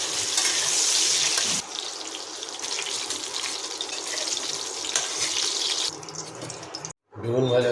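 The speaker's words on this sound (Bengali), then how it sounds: "তেল গরম হয়ে গেলে বেগুনগুলো ভেজে নেবো।" Eggplant sizzles in hot oil in a home kitchen pan, a loud continuous crackling hiss that softens slightly midway and cuts off near the end.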